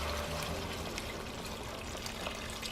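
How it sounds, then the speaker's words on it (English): Hot water poured into a pot of beef stew on the stove, a steady, fairly quiet rushing pour lasting a few seconds with no talking. "Water is hot, just add that in."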